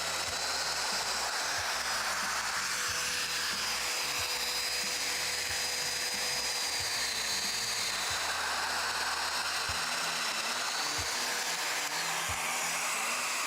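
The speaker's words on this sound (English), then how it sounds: "I'm going to put 2 mortises in, one tight, one loose." A Festool joiner fitted with a 5mm cutter cuts mortises in wood panels for a custom bedside table, giving a steady, close, high-pitched motor whine that runs unbroken, with faint low knocks beneath.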